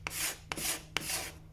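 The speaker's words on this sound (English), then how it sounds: "I find holding the scraper at a different angle rather than square to the wood." Three short rasping strokes of a hand scraper held at an angle, lifting traces of dried glue from a wet timber door surface, each stroke starting with a sharp catch then a broad scratchy drag, close and fairly quiet.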